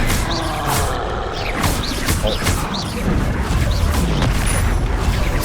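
Confringo spells explode during combat in Hogwarts Legacy, with repeated booming blasts and crashes under steady talk and game music.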